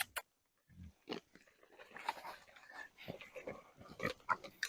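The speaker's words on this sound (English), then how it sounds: "And we try to spread them out because it becomes a feeding frenzy." Pigs jostling and feeding on apples thrown down a hillside on a farm, with scattered crunching, snuffling and grunting bursts at close range, some soft sounds mixed in.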